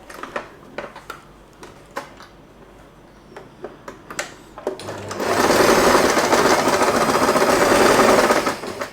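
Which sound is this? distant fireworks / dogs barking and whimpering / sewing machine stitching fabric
sewing machine stitching fabric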